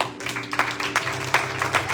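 A church congregation claps in short, uneven bursts, a few loud hand strikes over a low organ-like drone, brief and close.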